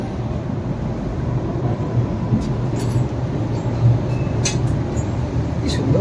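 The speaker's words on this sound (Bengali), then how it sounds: "চলো শিয়ালদা স্টেশন ছেড়ে দিল ট্রেন" The Sealdah–Balurghat Express, an LHB-coach train, pulls out of Sealdah station with a low, steady rumble of rolling stock and a few brief higher clanks and squeals from the wheels.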